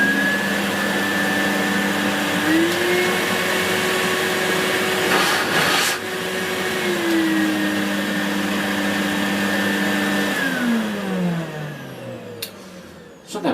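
Numatic Henry HVR200A vacuum cleaner motor running steadily after reassembly, a loud continuous whine with pitch shifts midway, then winding down near the end with a few clicks.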